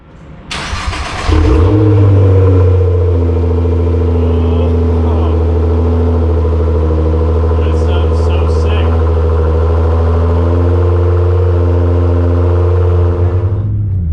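A Nissan R35 GTR fitted with an Armytrix exhaust fires up with a sharp crank and catch, then settles into a loud, steady, deep rumble, close by and sustained for over ten seconds before cutting off.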